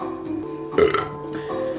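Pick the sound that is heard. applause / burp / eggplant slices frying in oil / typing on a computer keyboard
burp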